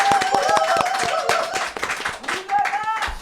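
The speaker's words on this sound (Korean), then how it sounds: "환호 부탁드리겠습니다" A studio audience at a talk show claps in a quick run of sharp hand strikes while cheering voices rise over the clapping, loud and close.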